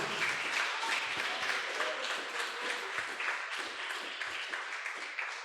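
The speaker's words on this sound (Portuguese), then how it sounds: "Vamos aplaudir bem forte ao Senhor." A church congregation claps strongly during a worship service, a brisk, fairly rhythmic burst of many hands heard at a moderate distance and somewhat faint, with no talk over it.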